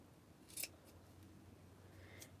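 Scissors snip through paper while cutting out a hand-drawn star: one short, crisp cut stands out near the start, with faint rustles after it in an otherwise quiet room.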